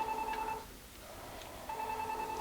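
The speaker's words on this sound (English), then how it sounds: "Let's just ignore that phone." A telephone rings indoors in a kitchen during food preparation, two short electronic ring bursts separated by a brief pause, moderately quiet and alone with no talking.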